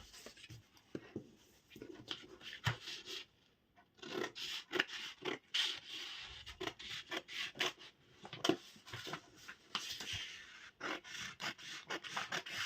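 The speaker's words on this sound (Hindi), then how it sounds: "अभी हम इसकी कटिंग कर लेते हैं।" Fabric being cut for a katori blouse, producing close, irregular bursts of scraping and rubbing with short pauses between strokes.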